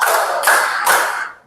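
A group of children or students clapping three times in unison, three broad, loud claps evenly spaced, the last fading out.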